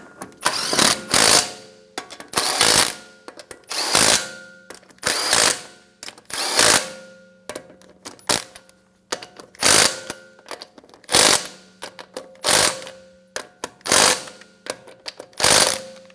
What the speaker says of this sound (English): Get your lug nuts started. Snug them down.